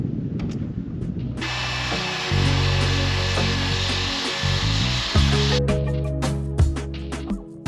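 A power sander works a teak boat deck, a loud sustained whine and buzz that starts after a second of quieter scraping, holds steady, then cuts out and restarts near the end.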